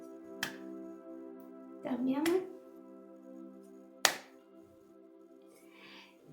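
Hand claps during a guided group movement exercise, a few separate sharp claps spaced a couple of seconds apart over a steady instrumental music bed, with a spoken instruction between them.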